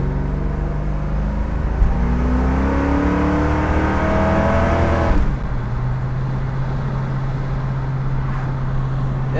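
A 1969 Ford Mustang Mach 1 with a 351 stroker engine drives along, its loud engine note climbing in a rev before dropping off to a lower steady drone with road and wind noise.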